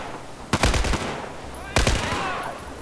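Two loud, close bursts of rapid gunfire from a weapon in Battlefield 4, each a quick rattling volley about a second apart with ringing decay between them.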